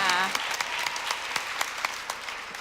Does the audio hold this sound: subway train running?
no